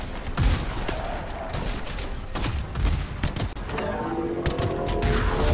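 Heavy pistol fire in the game Anthem, loud repeated shots with booming impacts over a dense, noisy battle soundscape, no talking.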